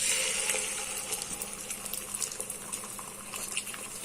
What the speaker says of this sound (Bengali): তো তেলটা গরম হয়ে গেছে, তো ডিমটা দিয়ে দিব।